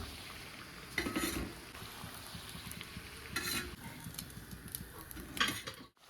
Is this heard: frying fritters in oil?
yes